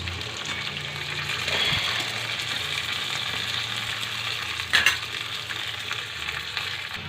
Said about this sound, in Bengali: চীনা বাদামটা দিয়ে দেবো। কিছুক্ষণ ভেজে নেব।